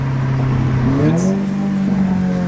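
An Audi S3 or Golf R with an aftermarket exhaust drones loudly and close, its engine note climbing in a rising rev before settling into a steady, booming hum.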